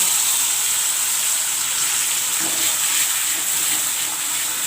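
Poppy seeds dry-frying in a pan give a steady, close, even hiss and sizzle that runs unbroken, with no voices over it.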